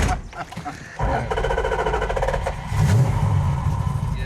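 A 1972 Dodge Charger SE engine cranks, catches and settles into a loud, rough idle close by, with a brief rev near the end and people talking over it.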